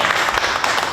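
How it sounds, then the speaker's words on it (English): Audience applause for Chef Ivan at a talk show dinner event: a dense, steady burst of many hands clapping together, fairly loud and sustained through the whole moment. "Let's give Chef Ivan a big round of applause"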